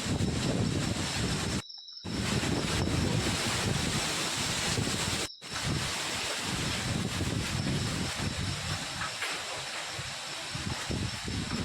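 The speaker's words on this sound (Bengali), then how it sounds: "কেমন করে হাওয়াটা দিচ্ছিল দেখো" Strong gusting wind roars against the microphone outdoors just before a rainstorm, a loud, continuous rushing blast broken by two brief dropouts, easing slightly toward the end.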